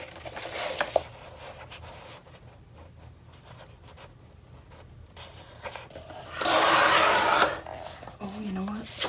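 Paper being trimmed to size for a handmade mini album, a broadband scraping slide of a blade rising loudly near the end after quieter rustling handling of sheets.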